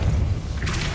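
A Depulso spell cast in the Hogwarts Legacy video game lands as a dull, low thud, followed by a brighter whooshing burst near the end of the second.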